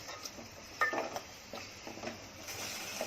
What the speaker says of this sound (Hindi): अब इसको अच्छे से भून रही हूँ।